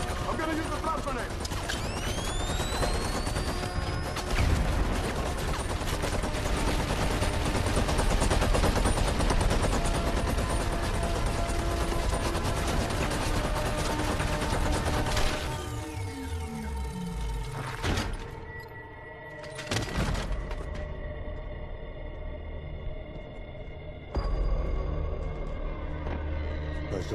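Rapid gunfire and blasts from a video game, with a flash grenade thrown, as sustained loud shooting fills the scene before sharper isolated bangs and a brief quieter lull.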